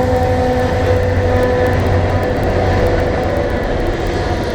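A train passes along a railroad line through swampy wilderness, a steady loud rumble with a low engine drone and faint repeated clicking, continuous throughout with no talk.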